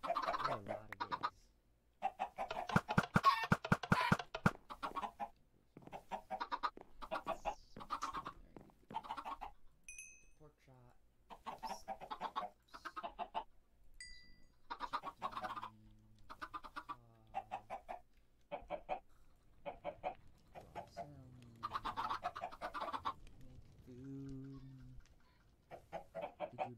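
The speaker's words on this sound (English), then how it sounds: "The chickens, for some reason, are not doing that." Chickens cluck repeatedly in the video game Minecraft, a run of short choppy clucks and squawks in irregular bursts, close and moderately loud with no talk.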